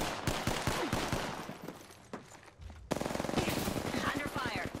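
Video game combat brings bursts of rapid automatic gunfire, sharp close shots in quick runs that break off briefly and then start again, louder and denser.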